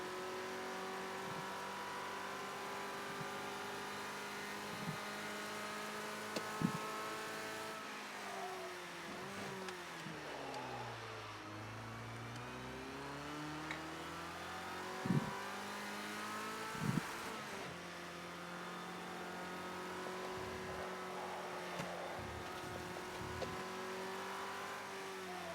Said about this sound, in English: Get right back up on the throttle.